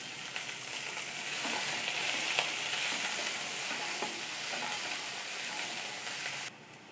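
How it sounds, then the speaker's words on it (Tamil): Garlic, onion and green chilies sizzle and fry in oil for vegetable fried rice, a continuous close crackling hiss with occasional stirring taps, ending abruptly. "பூண்டும் பச்சை மிளகாயும் நல்லா வதங்கிடுச்சு"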